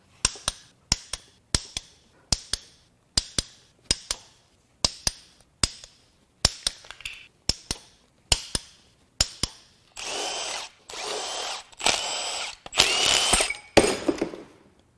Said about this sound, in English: let's crack all of these rod caps loose